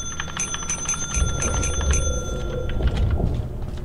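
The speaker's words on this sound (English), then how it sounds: "you gotta ring this bell a bunch of times until they show up" A bell in the video game Lethal Company rung over and over, a quick run of bright metallic dings in the first half that fades out, with low rumbling game noise beneath.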